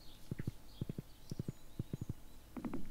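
Horse hooves clip-clop in the Stardew Valley farming game, quick triple-beat clusters of soft knocks repeating at a steady walking rhythm, fairly quiet.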